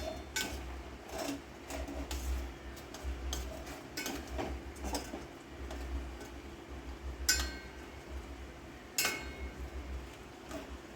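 A spoon clinks and scrapes against a cooking pot while Kashmiri chili powder is stirred in, giving irregular light metallic taps and ticks over a quiet low hum.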